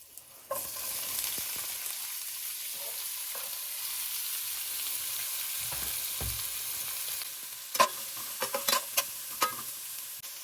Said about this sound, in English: now I'm just going to push my vegetables into the pan and let them cook